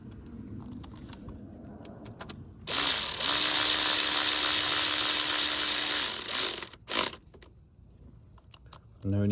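A ratchet wrench tightens small bolts on a Ford Powerstroke diesel fuel part, a loud, fast, steady clicking run lasting about three seconds close up, followed by a few short bursts of clicks.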